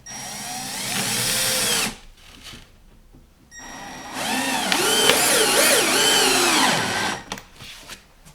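Power drill driving screws into connectors on office furniture drawers, two loud whirring bursts with rising and falling motor pitch, separated by a quiet pause and ending in a short clatter, close up with no talk.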